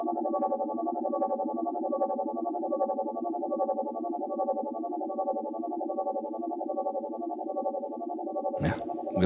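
A spacey guitar effect pedal, like a harmonic tremolo, holds a drifting, wavering tone that stays loud and steady throughout, then cuts off in a sharp burst of noise near the end.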